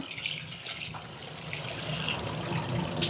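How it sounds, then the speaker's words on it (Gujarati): Water runs steadily from a tap while poha is rinsed, a soft continuous splashing flow close by with no talking. "આવી રીતે નળ ચાલુ કરવાનું"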